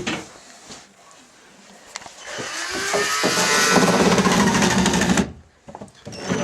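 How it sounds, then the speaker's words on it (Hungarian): Power drill run in a sustained, loud burst of whirring for several seconds, preceded and followed by short clatters and handling noises, with brief Hungarian instructions spoken around it. "Tartsd egyenesen a fúrót."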